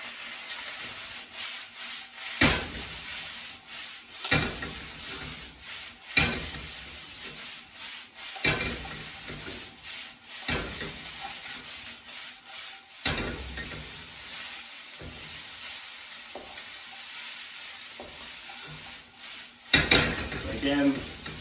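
Bean sprouts stir-frying in a hot pan for chicken chow mein, with steady sizzle, repeated utensil scrapes and clanks against the pan, and a voice talking in places.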